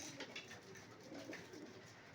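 Soft, low cooing of pigeons, repeated gently and continuously at a moderate distance, with no talking.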